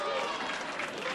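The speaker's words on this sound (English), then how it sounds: "Crowd showing their appreciation." Wrestling crowd in Ottawa, Canada applauding after a plancha, a brief dense burst of clapping and cheering heard alongside talk.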